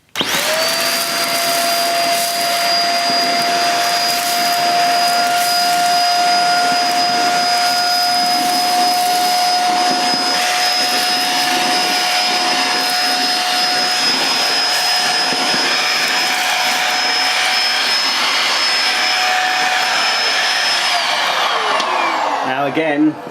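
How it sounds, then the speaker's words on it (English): A Bissell Featherweight Pro 2-in-1 vacuum cleaner runs as a handheld, its motor a loud, steady whine with a sustained high tone for about twenty seconds before spinning down, near and continuous. "you can hear the tone of the motor has gone a bit higher"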